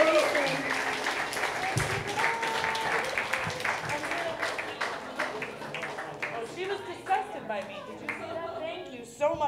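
A crowd at a variety show talent revue applauds a performer, sustained clapping and cheers that slowly thin out while voices talk over them.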